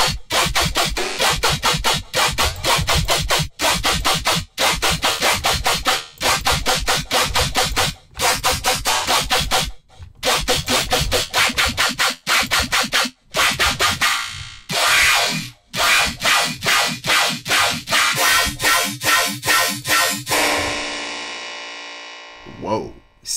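Dirty dubstep machine-gun bass built in the Serum synth: loud, gritty bass bursts chopped into rapid stuttering rhythms with brief gaps, ending in a sustained tail that fades out.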